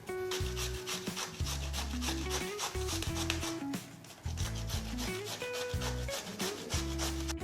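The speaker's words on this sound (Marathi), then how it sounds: "आता आपल्याला ही काकडी किसून घ्यायची आहे।" Cucumber rubbed against a kitchen grater in quick, rhythmic rasping strokes, close and steady through the whole stretch with only brief pauses and no talk.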